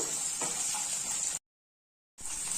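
Onions and dried red chillies fry and are stirred in a pan for upma, giving a steady, soft close sizzle with light scraping, broken by a brief silent gap.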